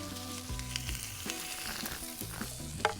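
Onion and garlic sizzle steadily in a hot pot, a continuous crackling fry with occasional clinks and stirring sounds.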